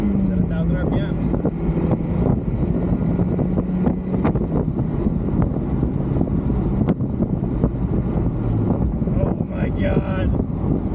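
A warmed-up Mazda Miata MX-5 engine idles at about 1,000 RPM with a loud, steady low rumble and heavy wind buffeting, while people talk over it.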